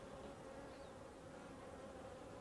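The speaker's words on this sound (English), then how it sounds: "the more bees actually stay on the frame" Bees buzz on a brood frame lifted from a beehive, a dense, continuous drone from many insects heard close up, with no talking.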